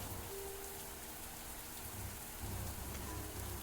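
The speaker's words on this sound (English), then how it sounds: "The sound of rain echoed all around them." Rain falling in a visual novel video game, a steady dense hiss of drops on surfaces, constant and fairly soft, with no voices.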